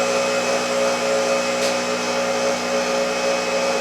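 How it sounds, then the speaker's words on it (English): A small generator turning an alternator with no load runs steadily at 3600 RPM, giving a loud, constant whirring drone with a smooth tonal hum and no breaks. "I'm turning it, it's turning the alternator, but it's no load on"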